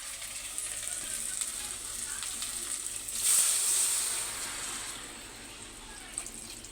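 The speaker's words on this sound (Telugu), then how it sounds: "ముందు దాంట్లో వాటర్ వేసుకున్నాం." Water is poured into a pot to cook rice for a jackfruit dum biryani, with a hissing splash swelling in the middle over a steady background hiss and light clicks.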